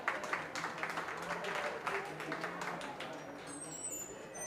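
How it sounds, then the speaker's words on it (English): Crowd applause from spectators at an open beef cattle show at a county fair, a steady patter of many hands clapping for several seconds with a few louder bursts, moderately distant in a large show ring. "Let's give him a nice round of applause."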